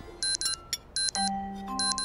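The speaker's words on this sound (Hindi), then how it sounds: "अलार्म है।" Short bursts of bright electronic ringing repeat in a quick pattern, with a steady beep tone joining near the end; no voices.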